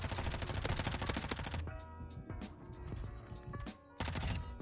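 LACHMANN SMG (MP5) gunfire in Modern Warfare 2, a dense, loud stream of rapid shots up front that gives way to sparser bursts and tonal game effects before a final loud flurry.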